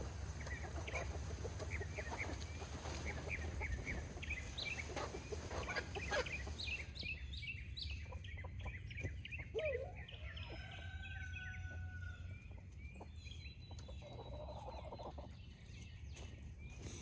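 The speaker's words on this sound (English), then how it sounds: "I have my cream leg bar rooster, my black copper Moran hen, and then an olive egger hen." Chickens cluck and chatter nearby, with Black Copper Marans and Olive Egger hens calling in short repeated notes and a Cream Legbar rooster's voice among them, steady outdoor background.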